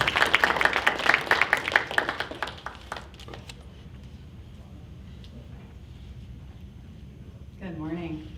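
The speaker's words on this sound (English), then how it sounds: "Give a round of applause for Dr. Oop" A short burst of clapping from a crowd at a poetry awards celebration fades out over a few seconds, leaving quiet room tone before a voice begins.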